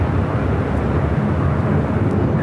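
A Delta airliner landing on runway 24 right at LAX gives a steady, loud broadband jet roar that holds evenly throughout, with no voices.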